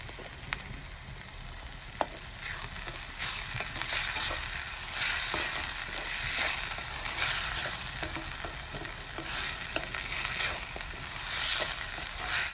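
Tomatoes sauté in a hot pan for a Tamil-style prawn thokku, giving a steady, moderately loud sizzle with scattered stirring scrapes and small pops throughout, with no voices.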